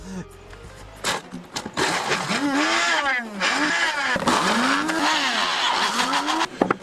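A small electric chopper chops onions, its motor whirring up and down in loud, close pulsing bursts that rise and fall in pitch several times.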